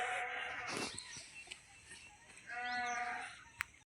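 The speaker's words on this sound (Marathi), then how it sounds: "ती येलेली मेंढी वरडायला लागली कोकऱ्यांसाठी" A ewe that has just given birth bleats for her lambs at close range with a wavering cry, alongside a shorter earlier call and faint rustling and buzzing in a quiet farm setting.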